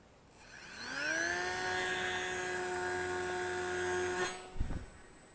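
Brushless motor of an Eachine Mini P-47 Bubble Top 500mm RC model plane spinning up at launch with a rising whine that holds steady for a few seconds, then cuts off and is followed by a short thump.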